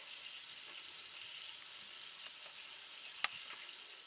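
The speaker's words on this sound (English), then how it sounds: "I'm going to let that cook until the meat is brown" Meat browning in a pan with a little olive oil, basil and oregano gives a faint, steady sizzle with soft crackles and one sharp pop near the end, with no talking.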